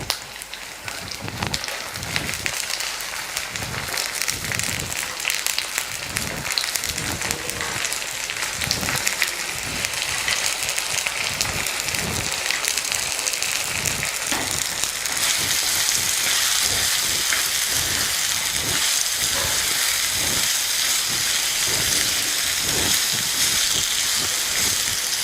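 Curry leaves and soaked black-eyed peas sizzle and crackle in hot oil in a pan, a steady loud frying hiss with rhythmic stirring scrapes throughout, the hiss growing brighter partway through.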